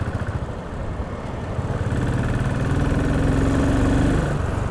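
A Royal Enfield Continental GT motorcycle engine idles with a steady low throb, then revs up slightly and holds, loud and close with no talking.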